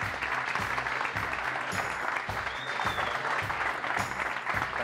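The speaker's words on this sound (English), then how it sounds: "give the warmest rock star applause for Carlos Train from dayOne" An audience at a startup event in Barcelona applauds a speaker coming on stage, steady moderate clapping heard from a distance throughout.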